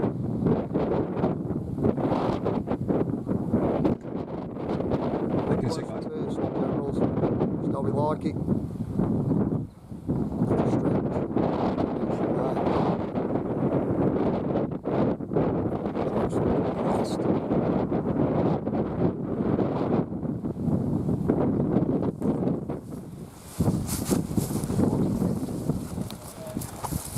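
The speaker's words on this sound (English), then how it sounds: "Lovely wind for us." Strong wind blowing outdoors and buffeting the microphone in steady roaring gusts that fill the whole stretch, with only brief lulls and no clear voices.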